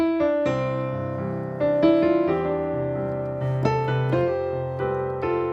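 A jazz piano plays a melodic phrase from The First Noel with sustained chords and a steady four-beat pulse, warm and clear, with no voices.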